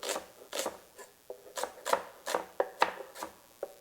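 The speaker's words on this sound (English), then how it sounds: "I do like a rough little chop for the onion" A knife roughly chopping an onion on a board, about a dozen crisp, uneven cuts in a loose rhythm, close and fairly quiet, with no talking.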